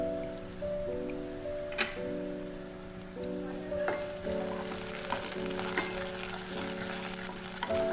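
Curry leaves crackle and spit as they fry with lightly golden onions in oil for aloo bharta, a steady close sizzle with a few sharper pops and a repeating low hum beneath, no voices.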